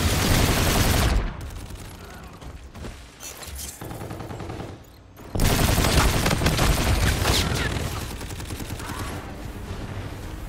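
Gunfire in Call of Duty Infinite Warfare multiplayer: loud sustained automatic bursts, a few seconds of quieter scattered shots, then another dense, continuous volley of rapid fire.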